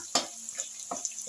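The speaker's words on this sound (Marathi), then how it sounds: "हे लसूण मिरची चांगली परतून झाली आहे।" Garlic and green chili sauté in a hot pan for a spicy Khandeshi bharit, giving soft intermittent sizzles with a few stirring scrapes, close and alone.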